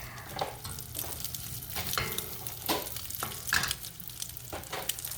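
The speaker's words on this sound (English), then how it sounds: "I'm only gonna fry these for about 2 to 3 minutes each on a medium heat" Crab cakes of crab, bread and seasoning frying in a pan over medium heat without added butter, giving a continuous close sizzle broken by repeated spatula scrapes and clicks.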